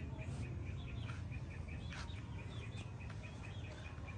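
Hens clucking in a house converted into a chicken farm, with repeated short high calls and chirps over a steady low rumbling background, fairly distant and quiet.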